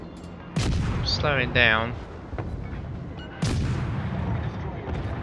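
Heavy warship guns firing in World of Warships, two loud booms a few seconds apart with rumbling tails, and someone speaking briefly between them.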